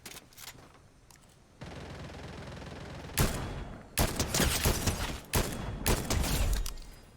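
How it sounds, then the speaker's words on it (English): Gunfire in a Fortnite match, with bursts of rapid shots and sustained rattling volleys from roughly the middle onward, fairly loud and clustered, after a quieter opening with a few scattered reports. "Who is doing all that fucking shooting?"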